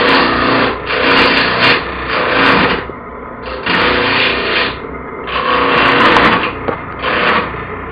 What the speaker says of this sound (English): I prefer to use a small gouge and a skew.